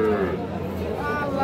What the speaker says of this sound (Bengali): এটা তো একটা বকনা